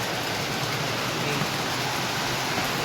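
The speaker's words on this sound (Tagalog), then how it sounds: "grabe po ang lakas ng ulan" Heavy rain pounds a PVC panel roof, a loud, unbroken roar of countless drops hitting the plastic that holds steady from start to finish, with no one speaking.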